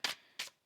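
Tarot cards shuffled by hand in two quick riffling bursts, close and crisp, with a short pause between them and no talking.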